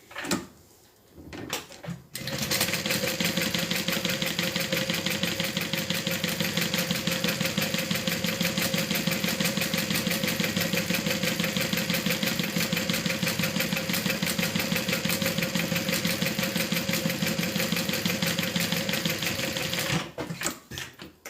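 A sewing machine stitches an interior piece of a custom bag down in one continuous steady run of rapid needle clatter and motor hum, close and loud, starting after a brief pause and stopping near the end.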